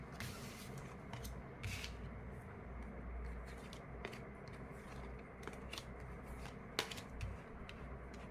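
Tarot cards are gathered up and shuffled at close range, giving a soft, continuous rustle and slide of cardstock with a few sharper snaps and flicks, all without any speech.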